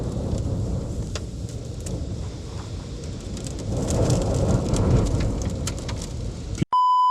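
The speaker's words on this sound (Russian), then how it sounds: "Сейчас дождь." Heavy rain pours down steadily during an overnight fishing trip in strong wind, a dense close hiss drumming on a tent, with low thunder rumbling underneath. A sharp electronic beep cuts in at the very end.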